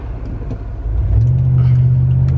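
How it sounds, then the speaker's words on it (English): A 5.3-liter V8 in a 2006–09 Chevy Impala SS rumbles as the car drives, the exhaust note rising into a louder, steady low drone about halfway through as it pulls harder. "It's a V8 in this bad boy, and you can hear the V8."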